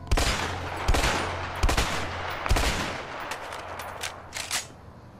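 Pump-action shotgun blasts from the 2018 PS4 game A Way Out: four loud, booming shots spaced about a second apart over a low steady hum, followed by lighter, fainter clattering and clicks near the end.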